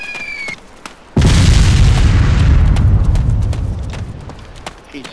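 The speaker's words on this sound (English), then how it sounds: "And bombs going off around me." A sudden deep, loud bomb explosion in the video game ArmA 2: Operation Arrowhead erupts and rolls on for several seconds as a long rumbling blast, with smaller pops and crackles scattered around it.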